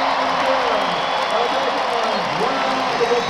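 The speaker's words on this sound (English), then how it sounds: "Applause for the 2011 Conference Champions." A stadium crowd at Neyland applauds and cheers as the 2011 Tennessee Lady Vols, Volleyball and Rowing conference champions are honored, a steady broad wash of clapping and crowd noise over an echoing voice throughout.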